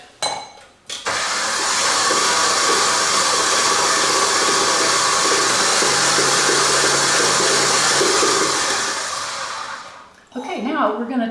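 A stand mixer whips a mixture in its bowl, a loud steady motor whir with a slight grinding edge that runs continuously for several seconds before winding down and stopping, followed by a few faint clinks.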